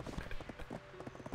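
Donkey mount hooves clip-clop in Black Desert Online, a quick run of soft, evenly spaced steps in a game world, closing with a louder thump at the very end.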